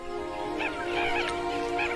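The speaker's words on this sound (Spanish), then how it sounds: "Con un leve gorjeo, llama a sus hijos." Soft, chirping calls from a waterbird calling its chicks on an Okavango waterway, a few brief honk-like notes close by over a steady natural background hum.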